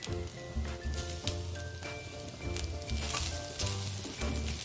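Modak filling of poppy seeds and fresh grated coconut sizzling and being stirred in a pan over medium heat as jaggery goes in, a steady close crackle with soft scraping strokes.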